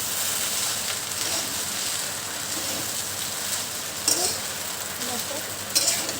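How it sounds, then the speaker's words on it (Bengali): A fried egg is stirred and mixed into food in a hot pan with tongs, giving a steady close sizzle and frying hiss with a few scraping stir knocks, no talking. "এবার এই ডিমটা আমি এটার মধ্যে মিশিয়ে দেবো"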